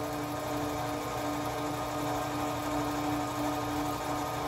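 A heavy-duty Lippert Ground Control 3.0 RV auto-leveling jack runs with a steady electric motor whine and a constant tonal hum, even and uninterrupted throughout.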